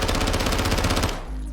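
A rapid, loud burst of submachine-gun fire from the video game Modern Warfare 2 rattles out about a dozen evenly spaced shots over a second, then cuts off into a low hum.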